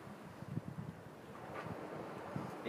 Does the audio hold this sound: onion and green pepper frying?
no